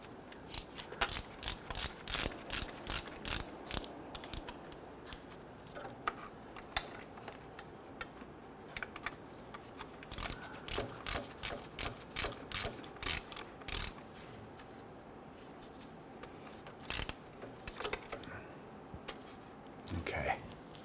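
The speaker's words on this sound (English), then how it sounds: "I'm just running the bolts down." A ratchet wrench clicks in quick repeated bursts as bolts are run down on the neutral safety switch of a 2006-2010 Hummer H3, close and fairly clear, with short pauses between runs.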